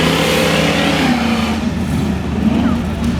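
A 1931 Pontiac 5-window coupe rat rod with a 396 bored to 402 on a custom chassis, its engine holding a loud, steady, rumbling idle and rev, close and continuous.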